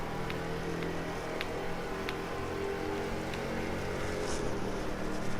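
A vintage touring car accelerates on a race track with steady, droning engine noise held at a constant level throughout, gaining speed without breaks, and no voices heard.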